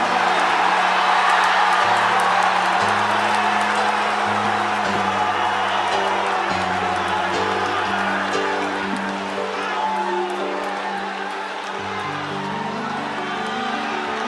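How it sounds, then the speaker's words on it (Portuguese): A church congregation shouts and cheers in praise, making a loud, continuous crowd roar. Sustained musical tones carry underneath, and the noise eases slightly toward the end. "Quem acredita nisso, dê um grito de glória."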